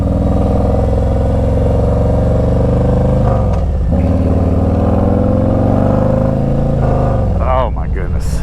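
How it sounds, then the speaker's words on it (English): A Harley-Davidson Street Glide Special FLHXS motorcycle accelerates on the road, its deep, loud V-twin drone rising and dipping through gear changes, with someone talking over the engine. "that sounds like a Moonshine Horsepower build Harley"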